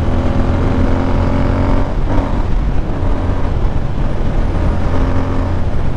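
A GT motorcycle ridden on the road after servicing, giving a loud, steady engine drone with wind rush and a brief shift in tone midway, continuous and without voices.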